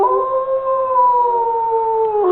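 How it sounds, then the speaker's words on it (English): Grayson, a pack canine, lets out one long, sustained howl, loud and close, holding a steady pitch before dipping slightly at the end. "I'm going to leave you with a little bit of howling"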